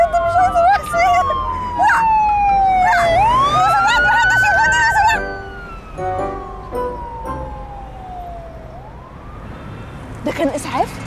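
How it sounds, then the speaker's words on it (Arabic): An ambulance siren wails loudly nearby, rising and falling in long sweeping tones over street noise, with people speaking at moments. "ما هو سرنت الاسعاف زي سرنت البوليس"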